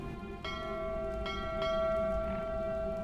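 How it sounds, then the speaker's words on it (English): A bell in the video game Haze Saltborne rings out with a bright, sustained tone, a few soft strikes layered in a long ringing decay over faint background ambience. "The bell rang once, a call for a venture."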